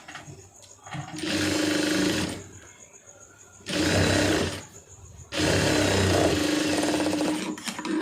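Three loud bursts of a sewing machine stitching the main piece of a lined blouse, each a fast, steady whir of several seconds separated by brief pauses.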